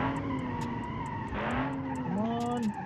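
A car's tires skid and squeal under braking in a racing video game, with the engine's high whine gliding down in pitch, a steady loud engine drone throughout and a brief louder tire screech midway.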